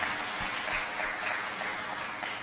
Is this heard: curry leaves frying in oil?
no